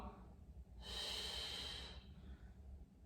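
A single deep, breathy inhale lasting about a second, close and fairly loud, during a postpartum exercise workout, with quiet room tone before and after.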